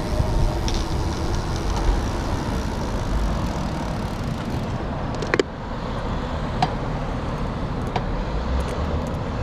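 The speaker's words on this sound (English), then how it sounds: "There's the Metrolink train up ahead there on the left." A steady rumbling roar of a passing Metrolink commuter train fills the whole stretch, with a few sharp metallic clicks and squeaks, moderately loud and continuous, no talking.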